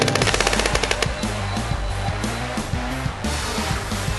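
A voice imitates machine gun fire in a long, continuous burst of rapid, rough bursts, loud and close, with no other talk.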